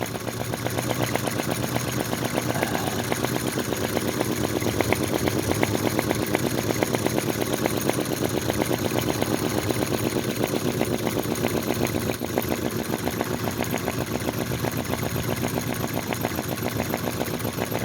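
A small V-twin model engine, fitted with computer heat sinks, runs steadily at a slow speed, a continuous close buzzing drone with a fast regular firing pulse and no breaks.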